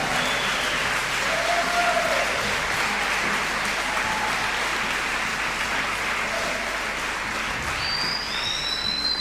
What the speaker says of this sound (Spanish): sea fuerte el aplauso